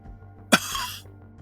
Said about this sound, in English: But Gomes coughs.